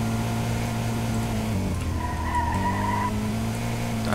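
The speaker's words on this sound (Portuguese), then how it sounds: "Agora eu vou fazer de moto" A motorcycle in a GTA game rides with a steady, loud engine drone that shifts pitch partway through, joined briefly by a tire screech.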